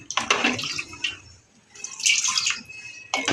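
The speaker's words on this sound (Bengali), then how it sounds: "এই মগটা দিয়ে আমি তিন মগ পানি" Water poured from a mug in two bursts for flatbread dough, a splashing pour followed by a second after a short pause, then a third starting at the end, close and fairly loud.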